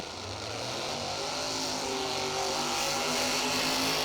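A Pro Nitrous drag race car roars down the strip at a street nationals event, a steady loud engine drone that builds slightly and holds without speech.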